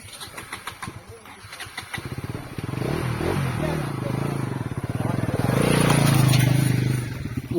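Motorcycle on an off-road track, the engine coming in after a couple of seconds and rumbling steadily with revs rising and falling, fairly close, with voices talking over it.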